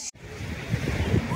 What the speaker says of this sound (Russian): Волны на море,